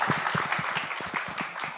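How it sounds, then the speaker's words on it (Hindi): Crowd applause for actor Vidyut Jammwal at a film trailer launch event, a brief burst of dense clapping under a lively room. "तो विद्युत जामवाल के लिए एक बार जोरदार ताली होनी चाहिए"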